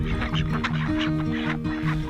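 Ducks being let out at home beside a freezing pond, a steady run of nasal quacks and calls close by, repeating rhythmically throughout with a dense, chattering flock quality.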